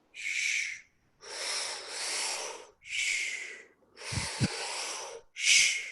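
Intense breathing exercise, in and out through the mouth: forceful, rhythmic breaths with long airy inhales and exhales separated by brief pauses, close and loud, with no talking.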